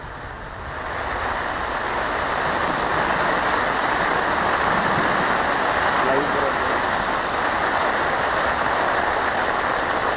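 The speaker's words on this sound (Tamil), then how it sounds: "திருவல்லிக்கேணி உள்ளிட்ட பகுதிகளில் மழை பெய்து வருகிறது" Steady rain falls across Chennai neighbourhoods, a dense, even hiss that holds for the whole stretch at a fairly loud level with no breaks.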